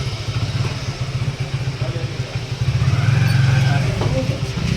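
A motorcycle being unloaded from a ferry boat on Gandhi Sagar reservoir, its engine idling and chugging in a loud low rumble with clattering handling noises, swelling louder midway and continuing steadily.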